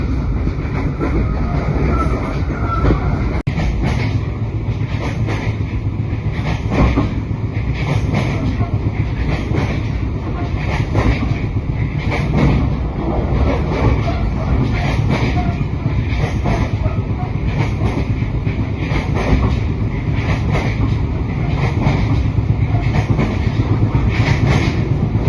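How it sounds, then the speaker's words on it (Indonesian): Continuous loud rumble of a passenger train, the Brantas service in Indonesia, running on rails, with steady clattering and rhythmic clicks heard from inside the carriage. "karena ini aku naik kereta api Brantas"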